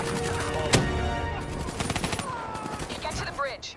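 Gunshots from Black Ops 3 rattle as cover fire, a sharp close crack followed by scattered bursts and rapid shots under game voices and battle noise.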